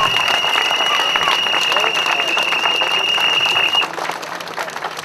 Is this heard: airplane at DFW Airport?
no